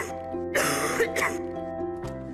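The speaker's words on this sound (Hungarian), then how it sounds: "Hurutos köhögés?" A person gives a harsh, chesty cough in a cough medicine advert: two close rough bursts then a short third, loud and near, over a faint background tone.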